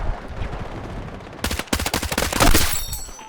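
Gunfire in the Battlefield 6 video game, a quieter stretch breaking into dense, loud rapid bursts of automatic fire that crackle on for a couple of seconds.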